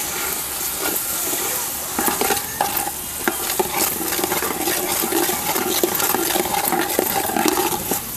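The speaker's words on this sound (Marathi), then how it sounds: "हे सुद्धा ना चांगलंसं आपल्याला परतून घ्यायचं" Ground whole spices and sesame with coconut being sautéed in a pan, with loud close scraping strokes of a spoon over a continuous sizzle and no talking.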